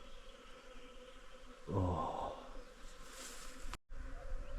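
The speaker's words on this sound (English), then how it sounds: "That is full of bees." A low, continuous buzzing of many bees nearby in Rocamadour, swelling briefly louder, with a short spoken exclamation.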